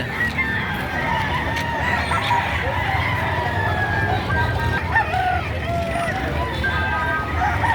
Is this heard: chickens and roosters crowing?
yes